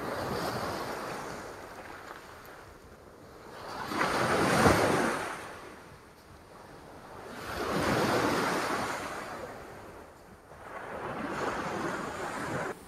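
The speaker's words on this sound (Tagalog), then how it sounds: "Ang laki ng alon, ang lakas" Big ocean waves surge and crash in three slow swells at Ransohan Beach, each rising to a roaring peak then easing back, with wind buffeting the microphone.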